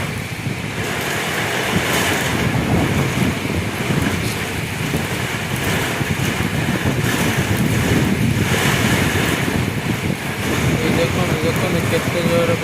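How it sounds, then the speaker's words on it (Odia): Strong wind roaring through shaking trees in a violent pre-monsoon Kal Baisakhi storm, a loud continuous broadband rush that gusts steadily throughout with buffeting on the microphone. "ଦେଖନ୍ତୁ କେତେ ଜୋରେ ପବନ ଗଛ କେତେ ଜୋରେ ହଲୁଛି।"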